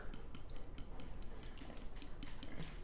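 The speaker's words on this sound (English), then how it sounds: "Then you want to stir it up so you break the yolks and also mix them in with the" Fork whisking eggs and milk in a bowl, a quick run of light clinking taps against the bowl, close and steady, with no talk.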